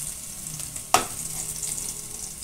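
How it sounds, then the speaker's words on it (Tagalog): Vegetables sautéing in a pan give a soft, steady sizzle, broken once by a sharp clank of a utensil against the pan early on. "Igisa natin para mabango."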